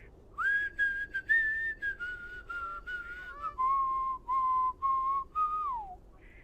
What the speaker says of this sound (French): C'était important d'entendre son sifflement.